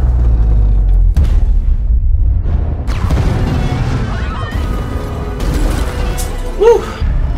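Bomb explosion in a movie scene: deep booming blasts and crashing debris, loud and rumbling, with a sharp hit around the one-second mark and another heavy burst soon after, plus some voices over the noise.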